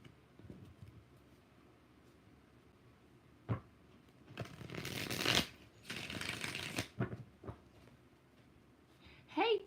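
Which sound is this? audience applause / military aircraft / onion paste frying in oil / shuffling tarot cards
shuffling tarot cards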